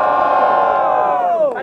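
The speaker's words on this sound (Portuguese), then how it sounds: "Diferentemente, barulhos pra quem gostou das rimas do Gomes." Loud, sustained crowd roar at a student freestyle rap battle, many voices shouting and cheering together at full volume, fading slightly at the very end.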